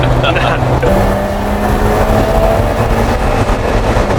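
Barra-engined factory Toyota FJ with an automatic gearbox accelerating hard on a busy highway, a steady loud engine and road drone with a gear change, while people talk over it inside the cab.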